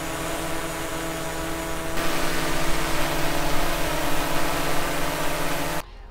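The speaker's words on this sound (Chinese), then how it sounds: "你可以听一下两款无人机的噪音对比" DJI Air 3 and Mavic 3 Pro drones hover in flight, giving a steady whirring rotor hiss that steps up louder partway through and then cuts off abruptly near the end.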